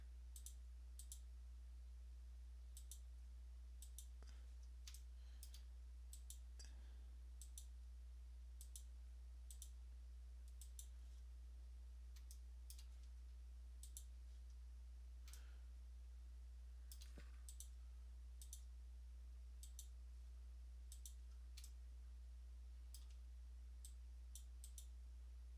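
Computer mouse clicking quickly while selecting edges in CAD software, a long run of crisp, faint single and double clicks at an uneven pace over a quiet low hum.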